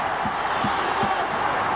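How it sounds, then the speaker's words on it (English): A big stadium crowd roars without a break, urging the PNG Hunters on against the Falcons in the 2017 Queensland Cup rugby league final, a dense wall of cheering with a few low thumps rising through it. "The crowd trying to get the team over the line."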